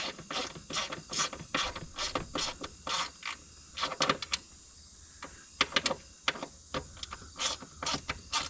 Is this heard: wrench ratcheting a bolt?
yes